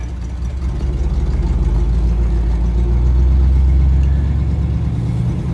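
A 1960 Cadillac Eldorado engine runs steadily on a test drive, a loud, deep, continuous rumble close by that swells slightly in the middle and holds without pauses or speech.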